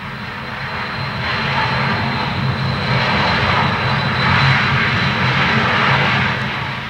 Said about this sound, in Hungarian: A repülőgép hajtómű, amely zúgó szelet gerjeszt.